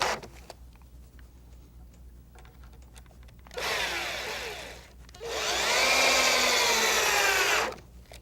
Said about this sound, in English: instead of nailing these together, Matt uses 3-inch wood screws